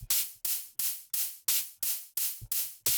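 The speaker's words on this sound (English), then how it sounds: "your top end percussion all together sounds like this." Drum and bass top-end percussion loop with stacked hi-hats and an offbeat percussion layer, crisp bright hits repeating in a steady fast rhythm, loud and alone with no talk.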